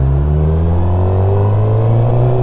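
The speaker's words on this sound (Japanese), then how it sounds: "ここ普通に抜けてく車いるんで気をつけてください" Cars moving through a highway parking and service area, a loud, close engine rumble with a low droning hum as a vehicle passes nearby, steady throughout.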